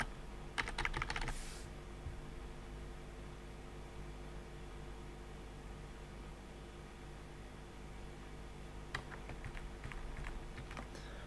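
A few quick computer keyboard key presses come in a short burst, a pause of steady background hum follows, and then another brief cluster of clicks arrives near the end, close and fairly quiet, with no talk.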